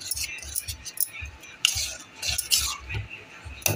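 A spoon stirs wheat malpua batter with salt and turmeric in a bowl, making quick rhythmic clinks and scrapes against the bowl, close and fairly loud, with no talk.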